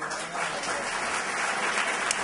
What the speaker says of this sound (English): Let's have another round of applause for both the interviewers